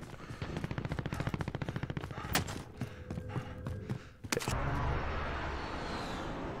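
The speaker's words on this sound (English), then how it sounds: "Hear shots everywhere." Rapid automatic gunfire in Call of Duty Warzone crackles in a fast burst, then scattered single shots and a sharp loud blast, followed by rushing ambient noise from the match.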